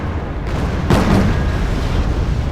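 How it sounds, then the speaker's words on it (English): BMP armored vehicles firing their cannons in a war strategy game, a distant rumble of gunfire with a stronger boom and burst about a second in, continuing under a low battlefield din. "My BMPs are out there shooting at it."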